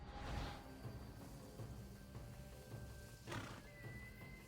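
A horse neighs in the video game Assassin's Creed Odyssey, two whinnying bursts at the start and near the end over a steady game soundscape.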